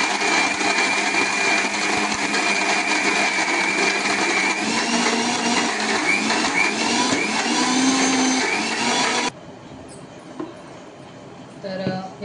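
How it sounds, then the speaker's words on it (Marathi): A home mixer grinder whirs loudly and steadily as it grinds soaked lentil batter for dahi vada, then cuts off abruptly, leaving faint clinks and shuffling. "माझ्या मिक्सरला थोडा वेळ लागतो"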